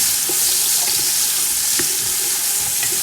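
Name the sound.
onions sizzling in hot oil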